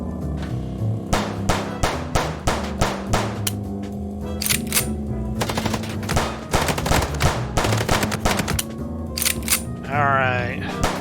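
Chicken Police shootout: bursts of sharp, loud gunshots in rapid rows, broken by short pauses, over a steady low music drone, with a brief stretch of voice near the end.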